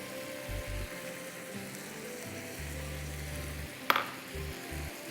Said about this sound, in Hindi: अब हम क्या करेंगे, इसमें हम टमाटर डाल देते हैं ताकि साथ साथ टमाटर भी पक जाए